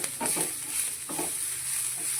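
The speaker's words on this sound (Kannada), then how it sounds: "ಈ ಥರ ಫ್ರೈ ಆಗಬೇಕು, ತುಂಬ ಚೆನ್ನಾಗಿರುತ್ತೆ." Food frying in oil in a pan, a steady soft sizzle with a few brief stirring scrapes, close and fairly quiet, with no voices.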